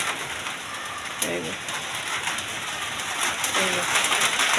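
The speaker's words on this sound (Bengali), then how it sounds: "বৃষ্টি কিন্তু হচ্ছে" Steady rain patters on a tin roof during a Baishakh storm, a constant hiss with a pigeon cooing briefly twice in the background.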